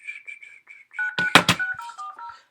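Telephone keypad tones dialed in a quick series of short, loud beeps, some grouped in rapid pairs, with a burst of noisy clatter partway through.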